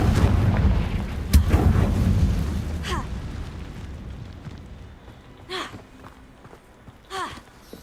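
Spell blasts burst in Hogwarts Legacy, a loud impact near the start followed by a fading rumble, then two sharper, quieter magical whooshes later on.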